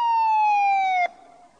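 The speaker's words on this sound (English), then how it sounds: "A police car came to the telephone box." Police car siren wailing loud and clear in a single sustained tone that dips abruptly, then fades to a quieter trailing note.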